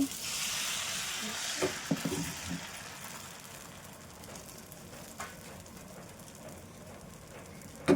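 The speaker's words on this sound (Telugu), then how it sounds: "పెనం కాలిపోయిందండి. దోశ అయితే వేసేస్తున్నాను" Dosa batter sizzles on a hot griddle with a soft, steady hiss, slightly louder in the first second, broken by a few faint clicks and taps of a utensil.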